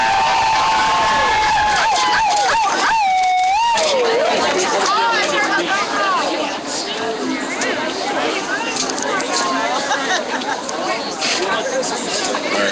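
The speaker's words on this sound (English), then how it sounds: "So give them a round of applause." A crowd at a One Billion Rising event in Pittsburgh cheers, whoops and shouts for performers, a loud, steady roar of voices and chatter that fills the space and holds for about twelve seconds.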